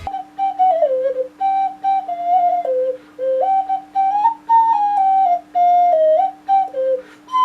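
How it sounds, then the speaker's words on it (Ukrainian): A ceramic or porcelain cuckoo whistle flute is blown in a steady run of loud, clear notes that slide and step between pitches. The phrases are short and separated by brief gaps, with no voices. "на честь музичного інструменту зозулі керамічної або порцелянової свисткової"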